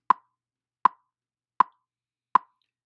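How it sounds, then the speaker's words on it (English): Metronome ticking four sharp, even clicks at a steady pulse under a second apart, clean and isolated against silence. "a metronome is that little device that kind of is a timekeeper"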